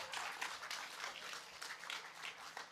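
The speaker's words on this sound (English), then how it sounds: "Let's give Libby and Justin another round of applause" Audience applause for Libby and Justin at a Defend Life evening event, a steady broadband patter of many hands clapping continuously at moderate, distant-sounding level with no voices over it.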